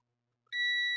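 A multimeter on continuity mode sounds a steady, clear electronic beep as its probes touch a shorted ceramic capacitor, starting abruptly after silence and holding at an even pitch.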